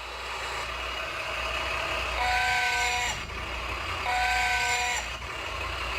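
An animated fire truck, painted by students, runs in an augmented reality app with a steady engine-like rumble and two sustained horn-like tonal blasts a couple of seconds apart, with no talking.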